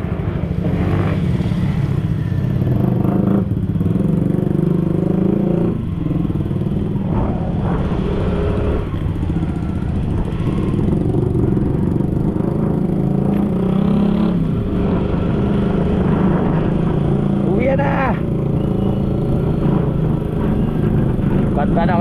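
A motorcycle engine runs continuously and close, a steady loud rumble on a ride through a rural Philippine area, with varying revs and voices talking faintly in the background.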